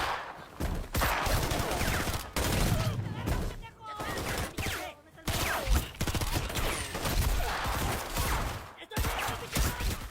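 Gunfire erupts throughout a shootout in the action film Counter Strike, with dense bursts of shots and rapid automatic fire, loud and close, broken by brief pauses and mixed with voices.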